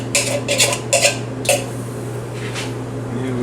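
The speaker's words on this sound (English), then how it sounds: "the coconut got stuck in the can here a little bit" Canned coconut scraped out of a metal can in a kitchen: a few quick scraping clinks in short bursts over a steady appliance hum, close and moderately loud.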